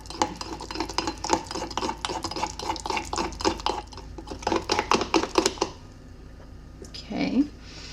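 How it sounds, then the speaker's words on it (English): A spoon stirs cinnamon roll dessert batter in a mug with rapid, rhythmic scraping and tapping close up, then stops, and a brief voice is heard near the end. "It looks gross, but we're gonna stir it together."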